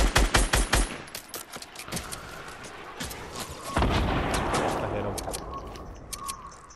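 Rapid gunfire from a squad-based shooter video game, with a loud burst of automatic shots at the start, then scattered shots and booming impacts over a busy, sustained battle din.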